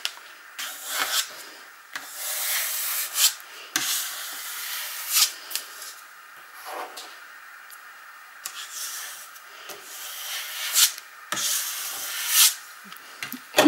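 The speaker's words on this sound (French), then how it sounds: "Et à l'aide d'un racloir, j'applique bien ma cartonnette" A scraper rubs steadily over a cardboard sheet as it is pressed flat during mounting, giving continuous close scratchy strokes with uneven surges and brief pauses.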